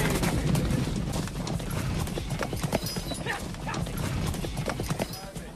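Horse hooves clip-clop steadily on a Western film soundtrack, a purebred horse's footfalls continuing loudly and close throughout amid other activity and background noise.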